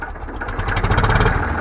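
An IMT 533 tractor engine idles close by, a loud, steady low-pitched diesel chug with a fast even pulse through the brief stretch, and no voices over it.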